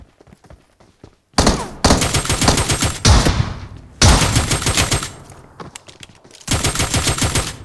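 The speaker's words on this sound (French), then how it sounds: "Ça tire vers Manon" Bursts of automatic gunfire in PUBG Mobile's Metro Royale mode, loud and close, with rapid volleys broken by brief pauses and no talk over them.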